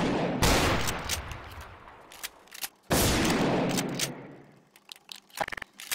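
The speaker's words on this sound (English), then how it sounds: "And the shotgun." Two loud, booming shotgun blasts go off in Garry's Mod, the first about half a second in and the second near three seconds, each trailing off in a long decay, followed by quicker faint clicks and pops.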